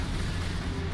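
An explosion in the Halo 2 video game, a dense, loud, continuous rumbling blast filling the brief moment with no gaps.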